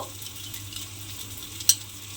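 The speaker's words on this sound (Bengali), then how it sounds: "মশলাটা আমি এর মধ্যে দিয়ে এবারে খুব ভালোভাবে একটু কষিয়ে নেব" Spice paste fries with soybean chunks in a pan, giving a steady low sizzle with one sharp scrape of a utensil near the end.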